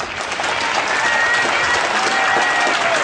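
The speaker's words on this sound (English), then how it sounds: "Let's have a big round of applause." A crowd at a June 2007 rally in Hazleton gives the speaker a loud, continuous round of clapping with some cheering, dense and even throughout.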